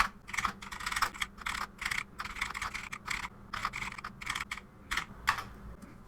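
Close, rapid keystrokes clatter in uneven bursts on a computer keyboard while typing in Google Docs, with brief pauses between runs of taps.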